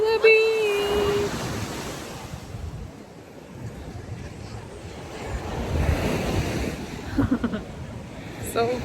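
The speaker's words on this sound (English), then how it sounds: "We made it to the beach, y'all." Ocean waves wash onto a beach in a continuous surf roar, mixed with gusty wind buffeting the microphone, while people talk and exclaim over it.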